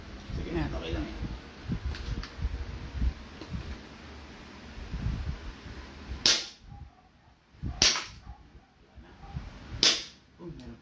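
Three sharp, loud pistol shots from a CZ Shadow 2 spaced a second or two apart, following a stretch of quiet background chatter.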